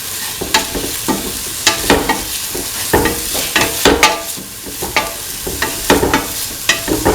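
Green chili stirred into a pan of tofu, potato and coconut stew, giving steady close sizzling with repeated scraping and stirring clatter throughout, no voices.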